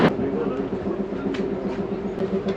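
The Kalka–Shimla toy train rolls through hilly pine country with a steady rumbling drone and faint rhythmic wheel clicks, close and even-paced throughout.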